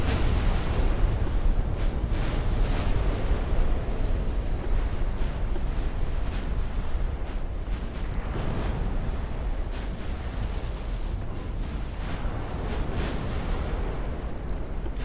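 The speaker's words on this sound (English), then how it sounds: "Someone just had their ammo explode." A warship's ammunition explodes in a naval battle in Ultimate Admiral Dreadnoughts, heard as a sustained, rumbling barrage of booms and bursts with a dense low roar continuing for the whole stretch.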